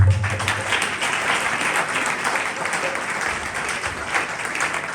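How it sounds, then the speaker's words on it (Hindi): Steady, full applause from a church congregation at a Christmas Day worship service fills the room, continuous and fairly loud, with a voice briefly audible beneath it. "आपकी तालियां बहुत कम है।"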